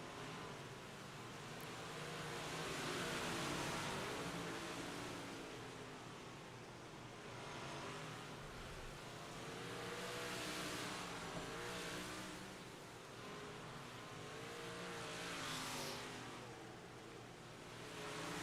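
Big block modified race cars circling Lanier Speedway, a continuous faint engine roar that swells and fades in waves as the cars pass, with no voices.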